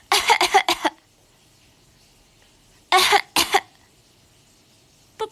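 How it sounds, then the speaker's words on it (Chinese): A one-year-old baby gives short bursts of fake coughing, close and clear, in two groups of three or four quick coughs with pauses between. "咋咳嗽的呀？"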